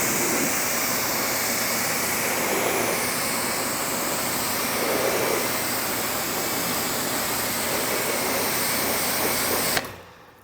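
Water rinses off washed car test panels coated in ceramic and hard-shell protectants, a loud, steady hissing spray running continuously for about ten seconds before cutting off abruptly.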